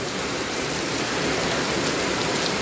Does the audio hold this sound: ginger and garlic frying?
no